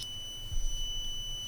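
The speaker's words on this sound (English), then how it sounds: "It's very handy and useful alarm if you want to make a gas leakage alarm." A steady, high-pitched electronic tone sounds continuously from a cheap gas leak alarm module beeping, faint and alone with no voices.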